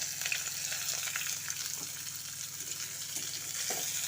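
Finely chopped onion frying in a pan with a tempering of dried chilli and nigella seeds for a Bengali flat bean dish, a soft, even sizzle with faint crackles throughout, quiet and close, no voices.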